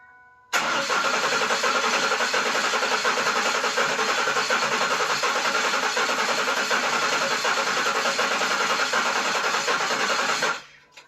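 A car engine cranks continuously on the starter for about ten seconds during a relative compression test, loud, close and evenly rhythmic, then cuts off abruptly.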